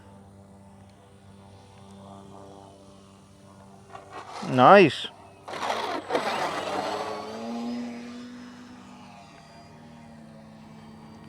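An FMS 1400mm Pitts v2 radio-controlled model biplane doing touch-and-goes, its propeller buzzing steadily at a distance, then a loud close whoosh as it sweeps past before fading back to a low drone, with brief talk over it.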